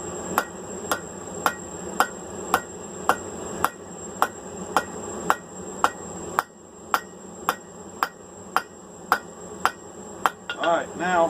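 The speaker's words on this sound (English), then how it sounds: "Since it's twisted, hammer in the rotation of the twist one time." Hammer forging a twisted metal bar for a portable camping cup holder, with steady evenly spaced ringing blows, about fifteen strikes, close and loud with a brief pause midway and a scraping clatter at the end.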